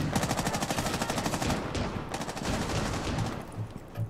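Rapid bursts of automatic gunfire in the video game Rainbow Six Siege crackle loudly and almost continuously, with brief pauses between volleys and no talking.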